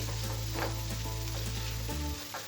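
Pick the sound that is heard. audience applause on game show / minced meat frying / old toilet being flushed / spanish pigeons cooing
minced meat frying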